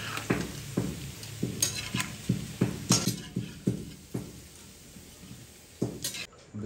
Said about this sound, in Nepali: हाम्रो चाहिँ अब यो अलमोस्ट सोचेको जत्तिकै फ्राई भइसकेको छ